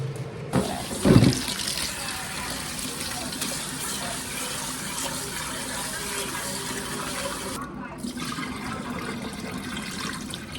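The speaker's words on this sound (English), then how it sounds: "You put your rice in the pan, and then you clean your rice." Tap water runs steadily into a pan as rice is rinsed, a continuous close gushing with a brief splashy swirl near the start, and a person talks faintly over it.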